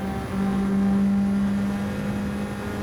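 Race car engine in a Suzuka racing video game, a loud steady drone that surges briefly before holding a high sustained pitch, with a gear change audible as the note shifts, alone with no talk.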